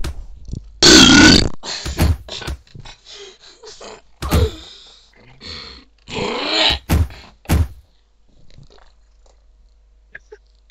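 Loud burping sounds from a game session, several bursts with gaps, some long and rasping, close and alone without talk, fading to near silence at the end.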